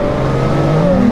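A Jaguar F-Type S supercharged engine revs hard and loud up close, its pitch climbing steadily through a short, continuous burst with no talking.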